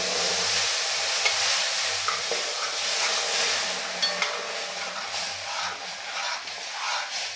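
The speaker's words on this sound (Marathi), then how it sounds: "दूध घालायचं आणि भरभर असं हलवून घ्यायचं आहे" Milk poured into tandalachi kheer in a pan over a medium flame and stirred briskly: a steady, close sizzling hiss with scattered spoon scrapes throughout, no voices.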